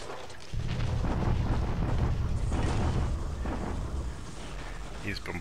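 Bombing explosions in the naval strategy video game War in the Pacific, a sudden heavy boom followed by a sustained, dense rumble of blasts that fades slowly toward the end.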